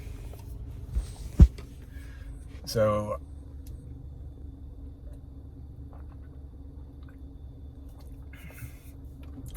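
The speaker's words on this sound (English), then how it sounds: "I gotta use both hands for this water. Let's open this water." A plastic water bottle opened close by: a sharp click, then a short crinkling crackle of the cap and plastic, with brief speech around it.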